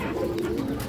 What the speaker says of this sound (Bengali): পাল্লা করা টুর্নামেন্টের কবুতর